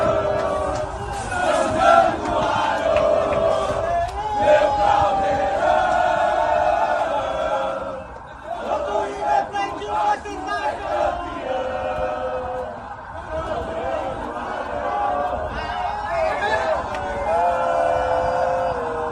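Vasco da Gama supporters gathered to celebrate the team's arrival, a loud, dense crowd shouting, chanting and cheering throughout, with a brief dip midway before the roar builds again.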